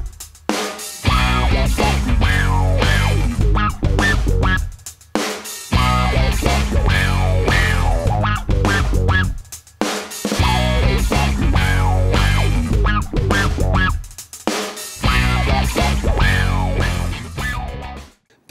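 An electric guitar plays through an envelope filter pedal combined with overdrive, producing thick, gritty, sweeping wah-like phrases in loud bursts separated by brief pauses, with no talk over it.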